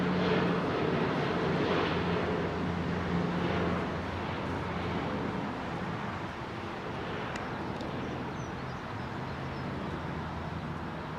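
Aircraft departing London Heathrow's runway 27R, a loud broad roar of jet engines heard from outside, strongest at first and easing slightly as it continues steadily.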